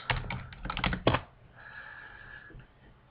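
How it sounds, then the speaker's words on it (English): A quick burst of keystrokes on a computer keyboard while typing an email reply, close and crisp, then stopping abruptly and leaving a low, quiet room hum. "I'll hit reply, and then I'll again just type in my response"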